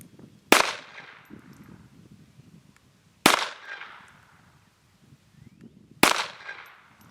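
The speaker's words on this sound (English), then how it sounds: "shoot the light here with some 22 long rifle" Three sharp, loud gunshots from a Smith & Wesson M&P 22 firing .22 Long Rifle, spaced about three seconds apart, each with a short decaying echo, with quiet rustling in between.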